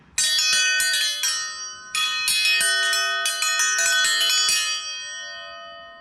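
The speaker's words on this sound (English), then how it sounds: "that's how you make a simple classic dinner bell" A forged metal dinner bell struck repeatedly with a hanging striker, bright ringing clangs in quick clusters that sustain and slowly fade, close and loud with no talking.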